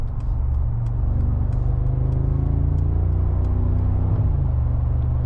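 A 2025 Mercedes-AMG G63 in Sport Plus mode gives off a steady, deep engine rumble from inside the cabin, loud and continuous, with a slight shift in tone near the end as the drive goes on.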